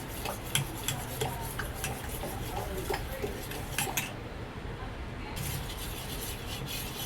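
Chocolate ice cream mixture being stirred in a pan at home, a soft continuous scraping and rubbing of a spoon against metal with light clinks, and faint voices in the background.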